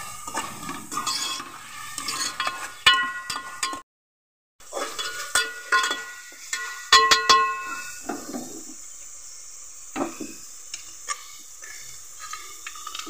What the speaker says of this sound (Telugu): అల్లం వెల్లుల్లి పేస్ట్ పచ్చివాసన పోయేంత వరకు ఫ్రై చేసుకోవాలి